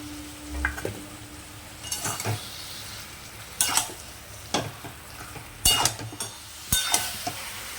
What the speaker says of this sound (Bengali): ঢাকা দিয়ে দিয়ে কষতে থাকবো আর রান্না করতে থাকবো